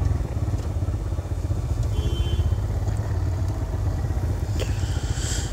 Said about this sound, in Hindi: बाइक को करते हैं पार्क।